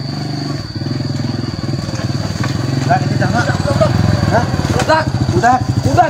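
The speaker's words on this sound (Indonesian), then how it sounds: "Motor." A motorcycle engine runs close by with a steady low rumble throughout, while people talk over it.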